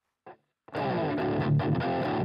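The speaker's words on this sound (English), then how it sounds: "Let's try it with more tube screamer distortion." An electric guitar runs through Tube Screamer distortion on a GarageBand amp simulator: a brief plucked note, a pause, then a loud, sustained, heavily overdriven chord phrase.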